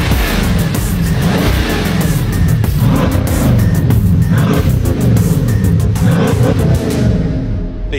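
A Lucid Air Sapphire races a triple-motor, 1,020-horsepower Tesla Model S Plaid, producing a loud, continuous rising roar of acceleration with a rhythmic pulsing drone, close up and sustained for the whole stretch before easing off at the end.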